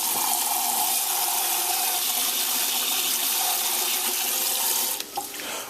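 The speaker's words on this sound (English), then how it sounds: "So all we're going to do, drain that out, and we're going to repeat it." Rinse water pours and gushes steadily from washed rice as it drains in a kitchen sink, a continuous loud splashing flow that thins and sputters out near the end.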